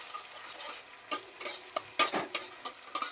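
Crispy corn being stirred with a little soy sauce in a pan, giving a steady run of scraping, clattering stirs with a light sizzle underneath, close and moderately loud, with no talking.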